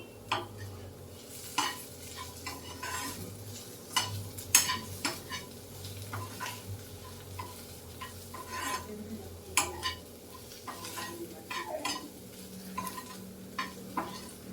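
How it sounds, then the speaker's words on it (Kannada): Cumin seeds fry in a hot pan for a spinach chutney: a steady low sizzle runs throughout, broken by frequent sharp spoon scrapes and clinks against the pan, close and moderately loud, with no talking. "ಜೀರಿಗೆ ಹಾಕಿ 1 ನಿಮಿಷಗಳ ಕಾಲ ಇದನ್ನು ಫ್ರೈ ಮಾಡಬೇಕು."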